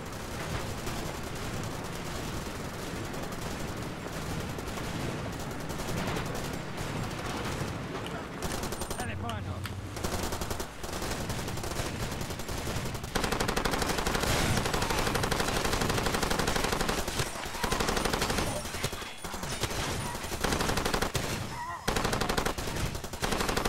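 Rapid machine gun fire from a Far Cry 2 video game battle, dense and continuous bursts running almost the whole time with brief gaps, loud and close, with short stretches of voices mixed in.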